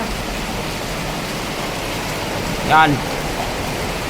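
Floodwater rushing and rising around a scaffold in a flooded area, a loud continuous broadband roar close by, with a man's brief spoken word cutting through it.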